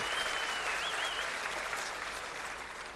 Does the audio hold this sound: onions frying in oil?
no